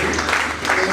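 Congregation applauding inside a church during a worship service, a steady wash of clapping filling the room for under a second, loud and continuous.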